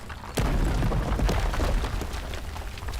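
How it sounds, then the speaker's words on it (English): Explosions from the video game Girl's Frontline 2 Exilium, a heavy boom opening into a sustained, rumbling roar with crackling bursts layered on top, loud and dense throughout. "The sounds of explosions arrive one after another, steadily encroaching on Linton's position."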